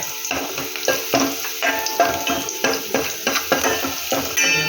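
Ground masala paste fries with onion and garlic for a prawn gravy, loud close sizzling broken by frequent rhythmic scraping strokes of a spoon against the pan.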